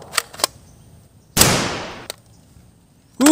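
A toy blaster gun fires a single sharp, loud zap with a sweeping decay, set between scattered clicks and taps, with another burst beginning at the end.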